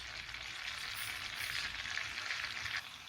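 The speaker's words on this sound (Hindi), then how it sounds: "मैंने एक पैन में बटर ले लिया है। अब बटर को हम अच्छी तरह से गर्म होने देंगे।" Butter heats in a pan with a steady, soft sizzle and fine frying crackle, close by and quiet, with no voices.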